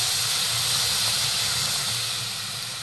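Water poured into a hot pan of frying oats and vegetables sends up a loud, steady steaming hiss that stays nearly constant for about three seconds and fades only slightly at the end, with no one talking.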